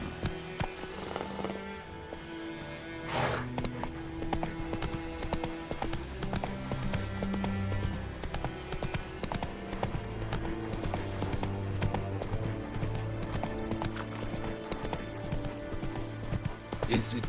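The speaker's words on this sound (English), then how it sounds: "Whoa there, Roach." Horse hooves clip-clop steadily through a stretch of The Witcher 3, the rhythmic steps mixed with game music and ambience, with a few spoken lines over them.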